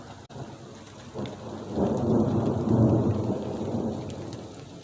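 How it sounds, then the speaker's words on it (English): A thunderstorm rolls in over a garden, steady rain pattering on surfaces as a deep rumble of thunder swells and then lingers, with no voices. "here comes the storm again"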